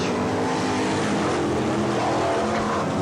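Brisca F1 stock cars roar past in a 20-lap 1987 International Cup race, a loud dense blend of racing engines close by filling the short stretch without pause.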